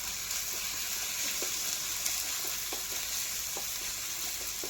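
Ginger garlic paste frying in hot oil, a steady close sizzle with occasional soft stirring clicks throughout.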